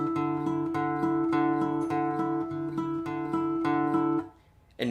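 An acoustic guitar plays a repeated chord figure from a song, with an open string ringing in a steady even eighth-note pulse. The notes are close and clear, then fade into a short quiet gap at the end.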